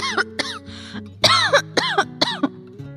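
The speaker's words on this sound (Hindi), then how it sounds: "अब सामने वाले को थोड़ी खांसी आ गई।" A dramatized cough in a spoken story, heard as several short rough bursts spread across a few seconds over a steady musical background, with no talk.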